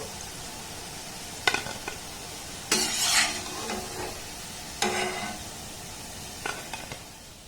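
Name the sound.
frying palm-fruit gulab jamun sweets in oil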